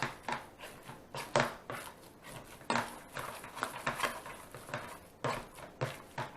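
Pierogi ingredients are mixed by hand in a bowl: close, irregular knocks and clattering scrapes of a utensil against the bowl, coming in quick bursts with brief pauses.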